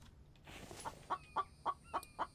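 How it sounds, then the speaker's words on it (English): Chickens in The Infected video game cluck in a rapid series of five or six evenly spaced bursts, moderately close, over a faint background hum. "I guess you guys are dumb chickens."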